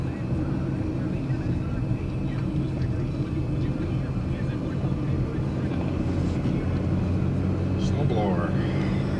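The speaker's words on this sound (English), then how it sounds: "Snowblower." A snowblower engine runs in a long winter around Lake Tahoe, giving a loud, steady, unbroken drone for the whole stretch, with possible faint voices underneath.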